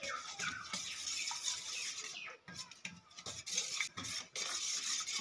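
Spoon stirring ground fried spices into oil for a raw mango pickle, a soft scraping and rubbing against the pan in uneven strokes, close and fairly quiet, with no speech.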